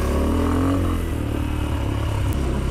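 An Exdrive Tekken 250cc motorcycle ridden through a forest onto sandy track, its engine droning loud and steady nearby with shifting revs and faint clatter from the bike.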